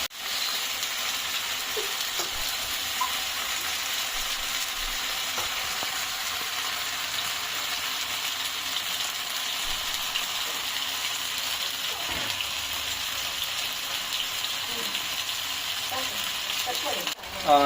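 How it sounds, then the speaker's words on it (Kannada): Fish fries in hot oil on a flat tava, giving a loud, steady sizzle and crackle that runs unbroken throughout, with faint clinks and stirring touches near the end. "ಎಣ್ಣೆ ಚೆನ್ನಾಗಿ ಕಾದಿದೆ, ಫಿಶ್ ಹಾಕ್ಕೊಂಡಿದ್ದೀನಿ."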